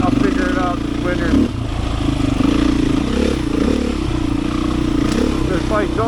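A Beta 500 dirt bike engine runs steadily while being ridden on a trail loop, a loud continuous drone with rattling clatter throughout.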